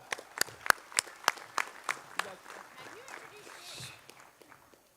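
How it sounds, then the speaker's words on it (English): Scattered, uneven clapping from a small audience at a career academy signing ceremony, a dozen or so sharp claps in the first half that thin out into quieter murmuring and movement. "So give these guys a round of applause"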